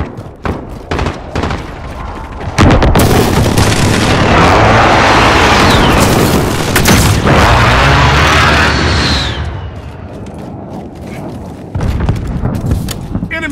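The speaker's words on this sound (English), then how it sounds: "Precision airstrike" Precision airstrike explosions in Call of Duty: Modern Warfare during team deathmatch: scattered sharp shots lead into a sustained, very loud barrage of booming blasts lasting several seconds before easing off, then more gunfire near the end.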